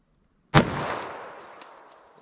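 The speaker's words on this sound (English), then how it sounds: "hit it with our 45 ACP above that" .45 ACP Hornady Custom pistol round fired into ballistic gel: one sharp, loud report after a moment of quiet, followed by a decaying echoing tail.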